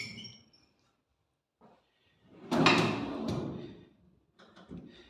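A museum display cabinet drawer is opened and closed, with a soft short knock, a louder sliding scrape in the middle, and a few small clicks and taps after quiet gaps.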